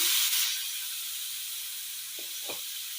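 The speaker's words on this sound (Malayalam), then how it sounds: "നെയ്യ് അങ്ങനെ ഉരുകി കിട്ടിയിട്ടുണ്ട് ഇനി ഇതിലേക്ക് ക്യാരറ്റ് ഇട്ട് കൊടുക്കാം" Finely chopped, blitzed carrot drops into melted ghee with a sudden loud sizzle burst that quickly settles into a softer steady hiss, with two small clicks near the end.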